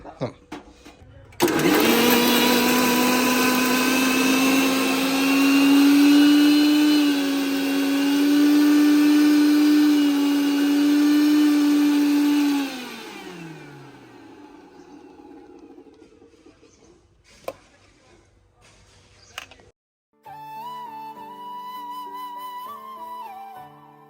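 A kitchen mixer grinder whirs loudly while grinding curry paste, a steady high-pitched motor drone that winds down after about twelve seconds, followed by quieter handling noises and music.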